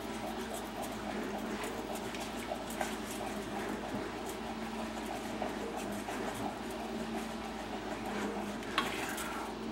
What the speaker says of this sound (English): you're going to whisk or stir the liquid with the sugar and butter just until it's all combined